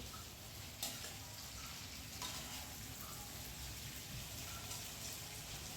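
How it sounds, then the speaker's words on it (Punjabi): Okra and onions sizzle and fry in a pan while being stirred, a steady dense crackle with occasional scraping clinks of the stirring, close and continuous with no talking. "ਤੇ ਭਿੰਡੀਆਂ ਆਪਾਂ ਐਡ ਕਰ ਦਿੱਤੀਆਂ ਨੇ ਜੀ ਸੌਫਟ ਸੌਫਟ ਹੱਥਾਂ ਦੇ ਨਾਲ ਆਪਾਂ ਇਹਨਾਂ ਨੂੰ ਤੇ ਪਿਆਜ਼ ਦੇ ਵਿੱਚ ਮਿਕਸ ਕਰਾਂਗੇ"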